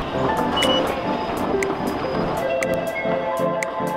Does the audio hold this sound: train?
yes